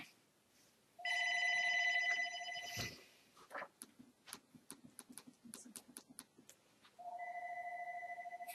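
A telephone bell rings in loud, steady electronic bursts, then breaks off into a run of sharp ticks and clicks as the handset is picked up, and a further ringing burst follows near the end.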